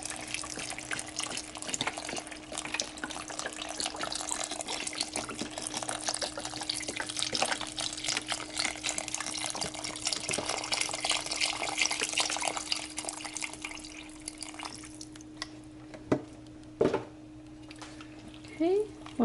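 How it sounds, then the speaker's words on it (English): Vegetable stock pours steadily from a full carton into a pot for a coconut lentil curry, a continuous close splashing gurgle that thins out toward the end, followed by a few clinks. "Right in with the veggie stock, and just go in with that full carton."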